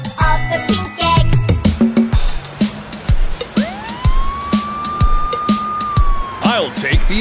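Ambulance siren in a children's nursery animation about surprise eggs, a rising electronic wail held steadily for a few seconds amid music, pops and a sung voice imitating the siren.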